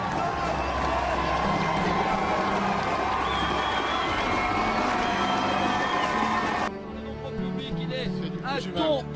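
Crowd cheering and applauding for cyclist Thomas Voeckler, a dense, loud roar of voices and clapping that runs steadily and then drops to a thinner, more scattered din near the end.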